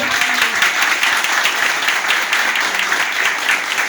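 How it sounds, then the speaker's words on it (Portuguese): Strong, steady applause from a church congregation fills the whole stretch, dense and loud with no pauses or voices standing out. "Uma salva de palmas bem forte para o Senhor"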